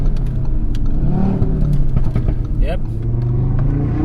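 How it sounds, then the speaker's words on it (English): Audi RS3 tuned to 521 bhp with a decat and intercooler, its engine revving and dropping through quick downshifts on a road drive, a steady loud car sound from inside with a brief spoken word over it. "Give you guys a few little downshifts here."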